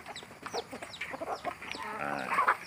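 Chickens cluck and chatter busily close by, a steady flurry of short calls rising slightly louder toward the end.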